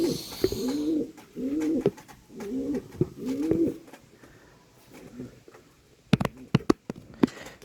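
A bird coos in repeated soft, rounded phrases, four calls in a steady rhythm, fairly close, followed by quieter rustling and a few sharp clicks.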